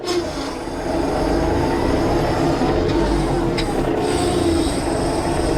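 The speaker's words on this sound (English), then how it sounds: "So now it is in high gear, and we're just gonna stab it." A Kioti CK2610 compact tractor accelerates hard in high gear, a loud, steady mechanical rumble with a gear whine rising after the first second and continuing close by.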